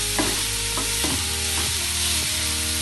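Carrot rice mixture sautéed in ghee in a pan, a loud close sizzle broken by several distinct scraping stirs of a spoon against the pan, with no talking.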